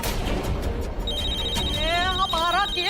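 A telephone rings with a thin, steady tone that starts partway through and runs under a person's anxious talking, in a tense family drama scene.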